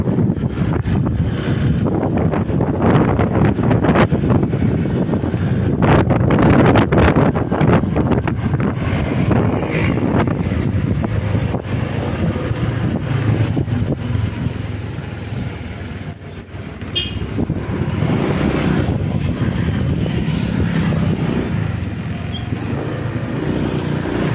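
Wind blowing through a village, a loud continuous roar and buffet across the microphone with gusty surges and a passing vehicle-like rumble, no talk.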